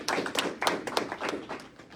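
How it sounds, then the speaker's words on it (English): A short burst of uneven clapping from a small group at a Virginia legislative caucus meeting, with a handful of distinct, close hand claps over two seconds that thin out toward the end. "let's give her a big round of applause for passing that"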